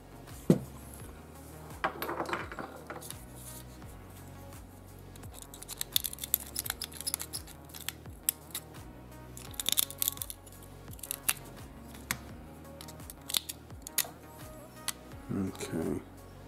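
Cutters snip metal on a diecast model car, giving several sharp clicks and crunches spread over a stretch of quiet handling noise, with a person talking now and then.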